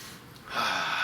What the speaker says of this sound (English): let's give it the sniff test